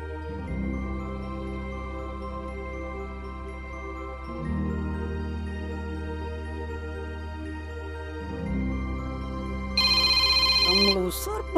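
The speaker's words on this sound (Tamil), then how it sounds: "மறுபடியும் ஃபோன் பண்றானே" Phone rings with an incoming call, a repeating electronic ringtone in steady pulses that grows sharper and brighter near the end, heard alone indoors.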